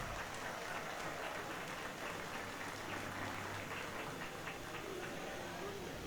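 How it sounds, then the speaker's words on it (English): A party crowd in the game Mass Effect 2 cheers and applauds, a faint, steady wash of clapping and crowd noise that goes on without a break, with speech-like murmur mixed into it. "And then all the guests are cheering him on."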